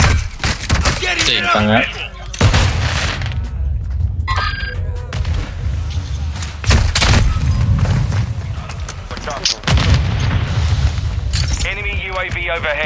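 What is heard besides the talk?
teammates firing guns in Call of Duty Modern Warfare 2 video game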